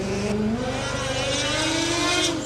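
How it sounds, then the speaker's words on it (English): A combustion race car engine on a Formula Student track holds a loud, steady buzzing drone with a rising pitch as it accelerates close by. "that engine sounds good, doesn't it, Austin?"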